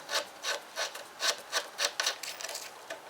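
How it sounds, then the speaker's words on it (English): A speedometer cable is unscrewed by hand and pulled free, giving a run of about eight short, close scraping rasps in a steady rhythm, with no talk. "the speedo cable, which we will undo from here simply by unscrewing that"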